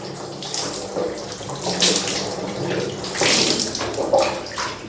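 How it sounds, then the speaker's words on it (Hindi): Water is poured over the head and body while bathing, in several splashing bursts that rise and fall. The gushing pours are close and loud, with brief pauses between them. "अब 3 बार सर से पानी बहाना है।"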